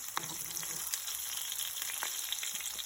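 Chicken frying in a pan for a roasted red pepper and mozzarella sandwich, a steady close sizzle with a few faint clicks of tongs, no one talking.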